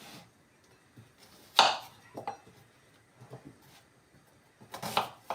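Onions being cut into large pieces on a board for Romanian goulash, a few sparse, sharp knife chops separated by pauses, close and moderately quiet.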